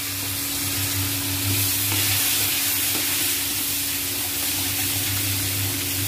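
Potatoes frying in a pan for methi aloo sabzi, a loud, steady, close sizzle with a faint low hum beneath it, continuous throughout without talking.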